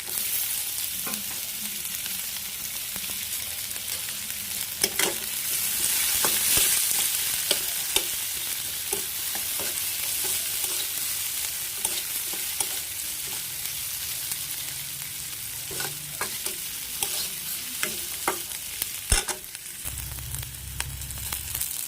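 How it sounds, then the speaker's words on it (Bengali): Chopped onion and green chilli fry in a pan for khichuri with garlic paste, making a low, continuous sizzle with scattered soft stirring scrapes and clicks, heard close and alone. "অনেকটা ভাজা হয়ে গেছে"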